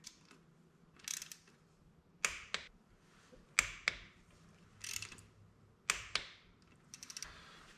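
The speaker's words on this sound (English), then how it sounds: "So I am torquing these down right now." A torque wrench clicks while bolts are torqued down on a 2020 Raptor 700, giving a series of sharp, close ratcheting clicks in short bursts with quiet pauses between them and no talking.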